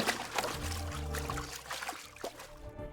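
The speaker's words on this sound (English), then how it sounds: "trickling river expands into a big roaring river. And you hear gurgling sounds" River water gurgles and splashes in a continuous close stream, with liquid trickling and bubbling pours under a low rumbling flow.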